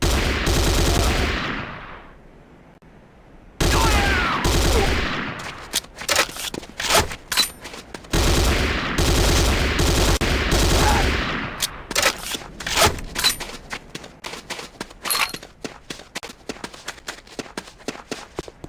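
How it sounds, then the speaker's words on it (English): Corbretti AR-70 Raptor automatic rifle from the game C&C Renegade firing loud, close bursts of automatic fire, long sustained volleys early on, then shorter clipped bursts with brief gaps between. "The next weapon is the Corbretti AR-70 Raptor automatic rifle."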